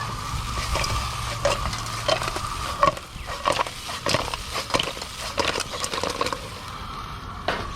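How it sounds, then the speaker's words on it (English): Chilli mud crab is stir-fried in a wok over a gas cooker, with a steady sizzle under repeated clattering knocks and scrapes of shells against the pan. "Wok toss to coat."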